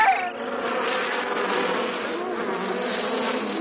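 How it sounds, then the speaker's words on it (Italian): A dense swarm of cartoon cicadas buzzes continuously, a loud, even, high-pitched drone that fills the whole stretch with no talk over it. "Ma che fanno tutte queste cicale?"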